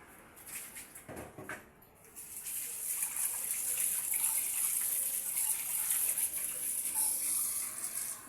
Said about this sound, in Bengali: শাকটা ধুয়ে নিচ্ছি